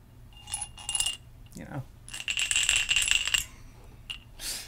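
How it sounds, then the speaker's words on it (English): Dice rattled in a cup, giving bright clattering bursts that rise and fade over several seconds, with a brief voice between shakes. "I have some dice and a cup"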